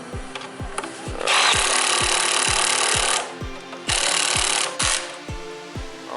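A 13mm bolt on the battery bracket of a 2008-2016 Fiat 500 is tightened with a ratchet that clicks in a steady, even rhythm, with bursts of loud rasping noise layered over the ticking, up close.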